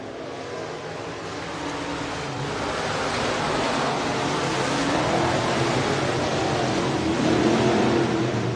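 Modified race cars roar around the Buena Vista Raceway as a dense, wind-blown wash of engine noise heard from a distance, swelling gradually louder over several seconds.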